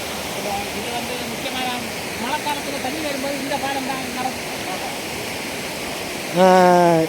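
Constant rushing roar of Thirparappu waterfall fills the background while people talk over it at close range.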